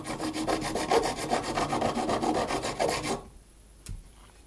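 A metal file levels the frets on an SG Junior guitar in quick, even rasping strokes, about a dozen of them, close and steady. The rasping stops abruptly, followed by a single faint knock in near silence.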